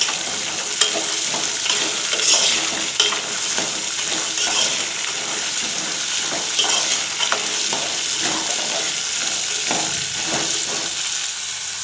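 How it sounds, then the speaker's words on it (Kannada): Chickpeas and curry leaves frying in oil for a chickpea sambar, a steady close sizzle with scraping stirs and light clinks throughout, no voices. "ಇದು ಹಸಿ ವಾಸನೆ ಹೋಗತ್ತನ ಎಣ್ಣೆಗನ ಫ್ರೈ ಮಾಡ್ಕೋಬೇಕು ನೋಡ್ರಿ"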